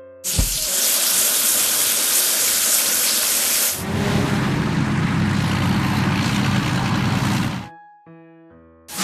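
Water spraying at a car wash in a truck video game, a loud continuous hiss that shifts to a heavier gushing spray midway, then cuts off abruptly into a short electronic tone.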